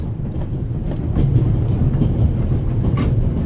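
Train rolling steadily in The Raven Remastered video game, a continuous low rumble of railcars with faint clicking of wheels over rail joints, loud and close with no talk.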